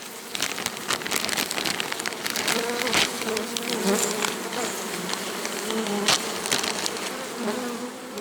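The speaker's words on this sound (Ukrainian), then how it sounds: "Зараз подивимося інші вулики." Honey bees swarm and buzz around open beehives at an apiary during a linden honey flow, a dense, continuous close-up hum with occasional louder passes and no talking.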